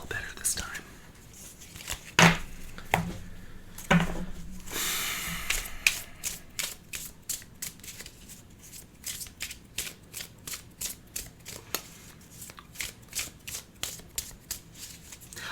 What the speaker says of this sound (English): want to shuffle better this time.